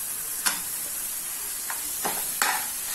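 A spoon scrapes and stirs masala paste with coriander powder, salt, black masala and Kashmiri red chili in a pan for kala chana curry, giving a few short scraping strokes over a steady soft sizzle.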